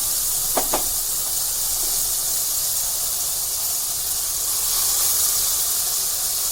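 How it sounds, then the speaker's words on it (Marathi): Masala paste sizzles in hot oil while making fried bangda mackerel, a loud, close, steady hissing fry that runs throughout, with a couple of brief clicks near the start and no voices. "तेल गरम झालेलं आहे आता आपण त्यामध्ये मसाला घालून घेऊया"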